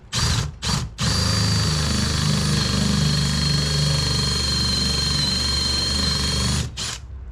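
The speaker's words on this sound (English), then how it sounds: "Let's drill out this hole right here." Power drill boring a hole with a dull 1/2 inch bit, a close, loud steady whine that runs for about six seconds between short stops and restarts at the start and end.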